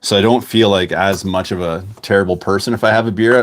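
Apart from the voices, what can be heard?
No everyday noise stands out behind the speech.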